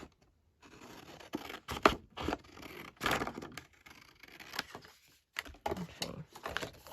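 Scissors cut paper scraps for a handmade journal, with snips, rustles and scraping that come and go, close by, among brief quiet pauses.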